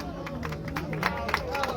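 Audience at a live Christianity versus atheism debate clapping and cheering for a debater, a steady wash of applause and crowd noise mixed with overlapping voices.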